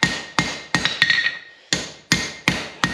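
A blacksmith's hammer strikes hot metal in sharp, ringing blows, about eight in a loose rhythm with a brief pause midway, close and clear with no voices, smoothing out hammer marks on the workpiece.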